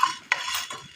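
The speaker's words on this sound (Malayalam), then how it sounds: "പയർ നമ്മൾ വറുത്തെടുത്തിട്ടുണ്ട്." Green gram (mung beans) dry-roasting in a pan, heard as a brief run of scraping stir strokes with a light rattle of dry beans against the metal, near and fairly soft, with no talk.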